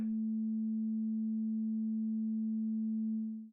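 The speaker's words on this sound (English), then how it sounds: "now it's sounding like a sine wave" A sawtooth synth tone built in Pure Data and heavily low-pass filtered so it sounds like a pure sine wave, one steady low hum held for over three seconds before fading abruptly.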